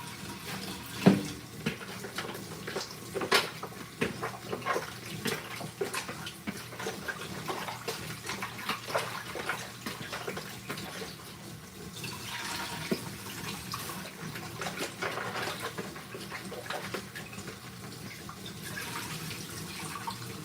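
Food being rinsed under running water at a kitchen sink, a steady splashing flow with uneven trickles and small knocks throughout, moderately close and with no talking.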